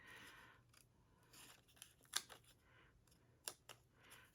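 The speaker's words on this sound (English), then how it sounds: "Time to get the scissors again." Quiet snips of scissors through paper, a few sharp cuts spaced irregularly among soft rustling, close by in an otherwise quiet room.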